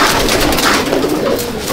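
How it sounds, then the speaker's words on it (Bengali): Several short-sized pigeons cooing together in a pigeon loft, a steady, fairly loud wash of overlapping low coos and rustling lasting under two seconds. "শর্ট সাইজের পায়রা, একদম খুব ছোটো সাইজের পায়রা।"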